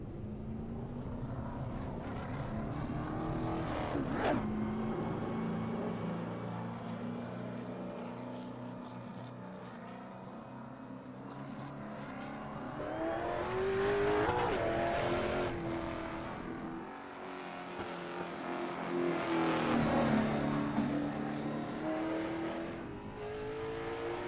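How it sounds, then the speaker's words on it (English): A sim race car pulls out of the pits at Langley Speedway in a racing video game, its engine droning and rising and falling in pitch as it speeds up, loud and continuous with no voices. "He does pull out of the pits here. Trying to work a little bit of heat in them front tires."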